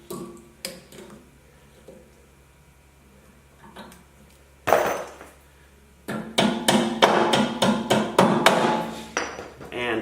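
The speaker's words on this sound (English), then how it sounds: "And tap the cotter pin in place so it's secure." Hammer tapping a cotter pin into place while assembling a Harbor Freight wood chipper; a few scattered light taps followed by a quick run of sharp, close metallic strikes.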